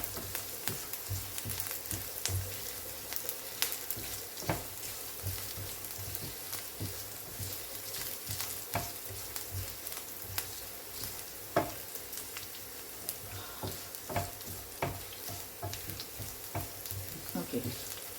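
Garlic and urad dal frying in a pan, a crackling sizzle with frequent small pops and spatula scrapes, moderately quiet and steady throughout.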